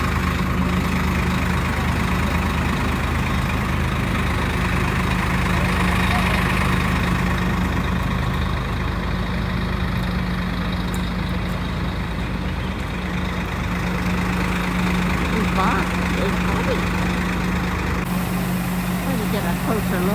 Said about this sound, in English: But the noise you hear is the bus we just got off of.